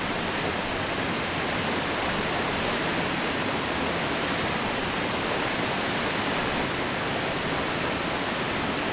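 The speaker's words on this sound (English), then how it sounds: "I always want to look behind the waterfall, but there's nothing but just loud water noise" Loud, steady roar of a waterfall in The Talos Principle, a dense broadband rush of falling water that holds constant and close throughout, with no other sounds.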